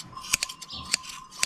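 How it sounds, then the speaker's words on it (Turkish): Hand scissors snip at a goat's tufted fleece out on a mountainside flock, giving four sharp, close metallic clips spaced irregularly across a short, otherwise quiet stretch. "Makas falan kesmiyor arkadaş ya. Yeni makas kesmiyor ya."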